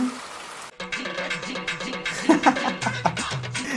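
Rain falls in a steady patter beneath a light musical backing, close and continuous for a few seconds.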